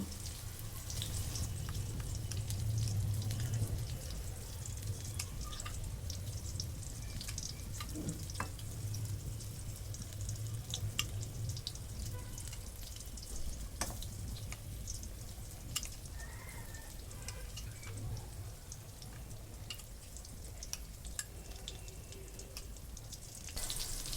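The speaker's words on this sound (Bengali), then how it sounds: "এখন আমি বেগুনটা লাল করে ভেজে নিব" Eggplant stuffed with beaten egg fries in a pan, a steady low sizzle with light scraping and stirring running throughout, moderately near, with no talk.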